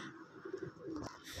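Soft, low pigeon coos sound close by, a short run of throaty murmuring calls with light rustling underneath.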